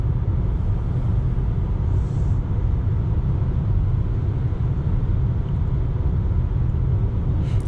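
A 2018 Nissan LEAF Tekna electric hatchback cruising on the Autobahn, heard from inside as a constant, dense low rumble of road and wind noise, steady and unbroken with no voices.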